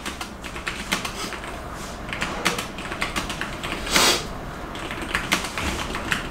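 Rapid typing on a computer keyboard during a speed-typing test, a dense run of close, crisp key clicks with occasional louder bursts and no voices.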